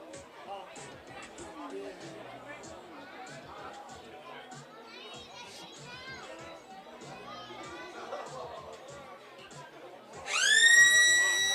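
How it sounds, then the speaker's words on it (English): Crowd chatter and distant voices murmur at a men's Australian rules football match, then a loud, piercing half-time siren blares in near the end and holds. "Half-time siren sounds."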